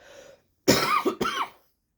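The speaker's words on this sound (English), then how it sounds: "I feel like I'm just gonna have to cough." Two close, harsh coughs in quick succession, with a short gap between them and silence afterwards.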